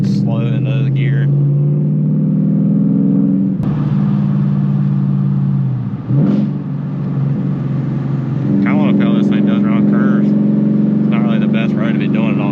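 A Ford Mustang GT's engine hums steadily and loud from inside the car, with a brief automatic rev-match blip during a gear change partway through, while a person talks over the drone.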